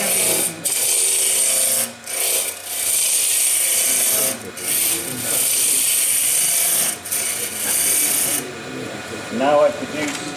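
Woodturning tool cutting a spigot on the end of a wooden workpiece spinning on a lathe, giving a steady close scraping rasp in repeated passes broken by short pauses, with a brief squeal near the end.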